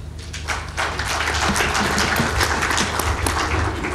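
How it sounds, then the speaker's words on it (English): A conference audience applauds a speaker, steady sustained clapping from many hands at moderate loudness, filling the whole stretch without speech over it. "A big round of applause to her"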